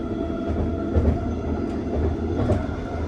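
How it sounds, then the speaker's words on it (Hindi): A Vancouver metro train carries passengers along its line, giving a steady close rumble with rail clatter and a few louder swells of wheel noise throughout. "मेट्रो में आराम से बैठ के जा रहे हैं"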